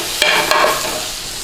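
Base gravy for chicken tikka masala sizzles in a hot pan as it is stirred, a couple of sharp scrapes over a steady close frying hiss, no talking.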